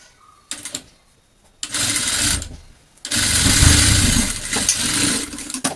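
A sewing machine stitches lining fabric onto a joined piece of cut cloth, two loud sustained runs of fast mechanical whirring, close by, separated by short pauses and a brief burst of handling.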